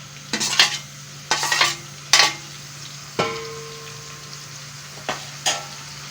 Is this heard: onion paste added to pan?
yes